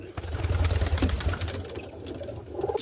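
Roller pigeons shuffle and murmur inside a loft at dusk while feed is put out, a low steady cooing under rustling and light clatter, with a voice talking nearby.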